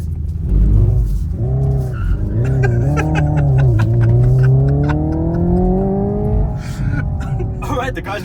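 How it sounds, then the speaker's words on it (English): Hyundai electric car drifting with a simulated engine sound, loud rising and falling synthetic engine tones with gear-like pitch sweeps and tire noise, while people talk over it. "Alright, the car's drifting."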